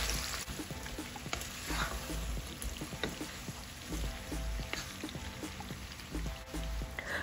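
Pork curry with onions and dried chillies frying in a pan, a steady crackling sizzle with scattered sharp pops, close by and moderately loud, with no voice over it.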